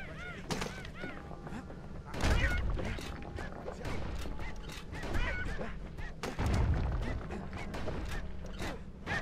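Hostile birds attacking in the video game Bastion, heard as repeated goose-like honks and squawks over creaking mechanical game sounds and impacts, with a player's voice speaking at times.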